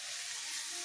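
Tomatoes and onions sautéing in a pan for chapati kurma, a faint, steady hiss and sizzle with no talking.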